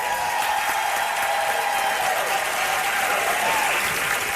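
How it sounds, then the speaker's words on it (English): Sustained audience applause for a panel at a women's health expo, a thick continuous roar of clapping at fairly high level with faint voices underneath. "Give the panel a big round of applause."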